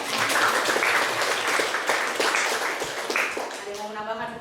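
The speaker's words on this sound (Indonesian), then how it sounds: "Tepuk tangan dulu buat Anissa." Students in a high school classroom clap for a classmate, a lively burst of close, uneven clapping with voices chattering underneath that tapers off at the end.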